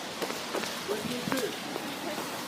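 Rain falls on a street in Kraków in a steady, soft hiss and patter, with passing voices faintly audible in the background.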